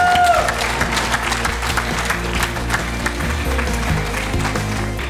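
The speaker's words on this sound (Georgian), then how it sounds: "ხალხ გავაცილოთ აპლოდისმენტებით ნინუცა ბედიაშვილი." Sustained audience applause filling a television talent show studio at a singing contest, steady and loud throughout with dense clapping and crowd noise, while music plays underneath.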